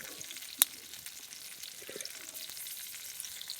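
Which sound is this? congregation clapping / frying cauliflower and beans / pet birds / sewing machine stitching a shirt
frying cauliflower and beans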